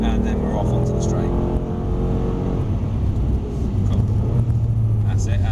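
A Mercedes-Benz accelerating out of a corner on a track, its engine note droning steadily and climbing in pitch under in-car noise, while an instructor and driver talk.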